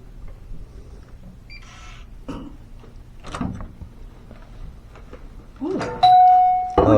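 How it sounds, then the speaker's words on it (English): An intercom doorbell in a hotel in Cebu, Philippines, gives one bright electronic ding after some rustling and handling noises, ringing loud and close. "Oh, doorbell."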